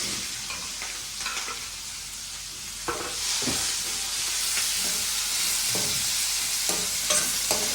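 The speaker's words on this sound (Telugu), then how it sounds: "ఇప్పుడైతే పచ్చిమిర్చి ఉల్లిపాయ కూడా వేసేసుకుంటున్నాను నేను" Green chillies and onions fry in a pan for a dried salted fish and tomato curry, a steady loud sizzle with scattered stirring scrapes throughout.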